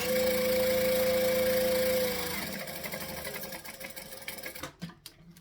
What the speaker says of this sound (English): we're going to stitch, we're going to back stitch.